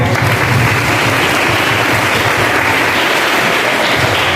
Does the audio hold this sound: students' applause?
yes